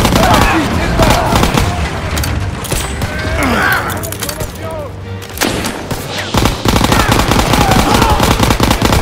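Dense machine gun fire and scattered gunshots rattle almost without pause in a World War II battle in the game Call of Duty WWII, loud and close, with soldiers shouting over the firing.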